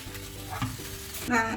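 Coconut milk being stirred in a pan for Kerala-style fish molly, a soft scraping and bubbling with a faint sizzle, steady and close, with a brief louder clatter near the end.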